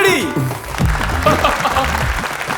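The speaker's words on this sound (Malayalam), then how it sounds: "നല്ലൊരു കൈയടി." An audience claps at a stage event for a Malayalam film, with the applause rising under a loud voice that speaks over it throughout.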